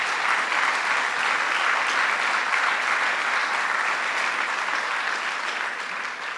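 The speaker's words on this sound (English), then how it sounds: "So let's give him a big round of applause" A large audience at a governor's economic announcement in downtown Syracuse applauds, a full, sustained wash of clapping that holds steady and eases slightly at the end.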